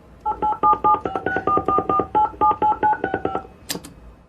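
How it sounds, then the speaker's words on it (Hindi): A phone number is dialed on a telephone keypad: a quick, even run of about fifteen short beeping tones, followed by a brief sharper tone at the end. "मैं फोन मिलाया तो आप उससे बात करना"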